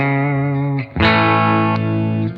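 Electric guitar played through a TONEX ONE pedal on a Fender Super Reverb clean amp model rings out in two sustained clean chords with a brief break between them, loud and alone.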